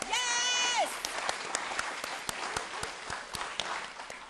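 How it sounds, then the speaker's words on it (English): Scattered applause from a talent-show audience thanking the sponsors, with individual claps popping out distinctly over a low, steady crowd wash; a brief rising whistle-like tone sounds at the very start. "let's give all of our sponsors a massive round of applause"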